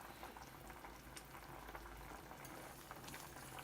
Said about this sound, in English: So now the pot has come to a boil.